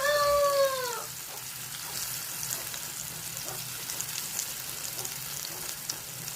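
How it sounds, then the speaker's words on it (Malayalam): Breadfruit pieces deep frying in hot oil with curry leaves, a steady close bubbling sizzle throughout after a brief tonal whine at the start, no talking. "പാകമായതിന് ശേഷം വറുത്ത് കോരിയെടുക്കുക."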